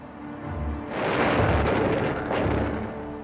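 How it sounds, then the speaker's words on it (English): Anti-aircraft guns firing in Hyde Park during the London Blitz give two heavy rolling booms with a sharp crack and long rumbling tails, distant yet loud, over a low background hum. "Anti-aircraft guns were installed in Hyde Park."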